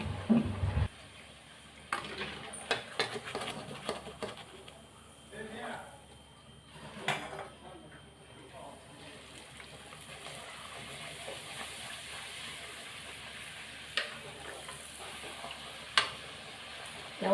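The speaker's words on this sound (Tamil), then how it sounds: "எண்ணெய் சூடான பிறகு அடுத்த பூரி போடணும்" Poori dough frying in hot oil for a home breakfast, a soft steady sizzle and occasional stirring clatter running throughout, with speech heard at points over the frying.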